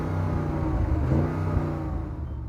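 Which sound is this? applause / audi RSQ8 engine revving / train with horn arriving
audi RSQ8 engine revving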